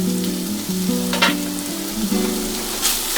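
Minced mutton keema sautés in a pan with a continuous close sizzle and a few brief stirring scrapes, all over a low steady hum and without speech.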